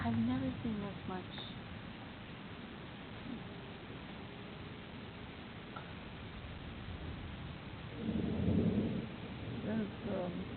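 Thunder rumbles through a thunderstorm, a low sustained roll with a louder swell near the end, while people talk over it at the start.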